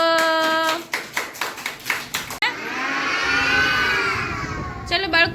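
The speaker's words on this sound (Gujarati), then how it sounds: "બાળકો બધાય તાળી પાડો" Children clap their hands in a steady, fairly quick rhythm at an anganwadi preschool for about two seconds. A sustained voice follows, then a brief return of claps at the end.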